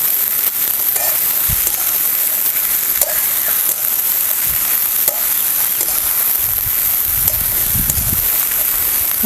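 Chopped ivy gourd (tondli) being stir-fried in a pan, giving a continuous soft sizzle with scattered scraping knocks as the vegetable is turned and mixed, steady throughout with no talking.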